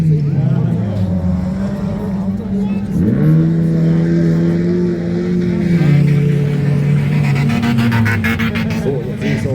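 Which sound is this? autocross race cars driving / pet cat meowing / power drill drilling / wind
autocross race cars driving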